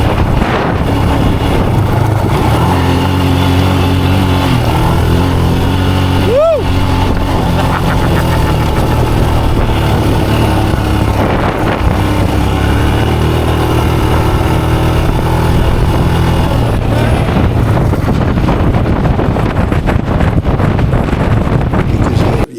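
A motorcycle riding a pebbly gravel road in Patagonia, with steady loud engine drone and heavy wind buffeting the microphone throughout and a brief higher engine sweep partway through.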